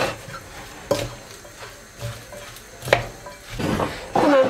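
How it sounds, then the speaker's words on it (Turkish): A salad dressing of olive oil, lemon juice and salt is stirred in a bowl, with a few distinct clinks and scrapes of a utensil against the dish, fairly close, between quieter gaps. "Şöyle bir miktar da tuz ekleyip karıştırıyorum."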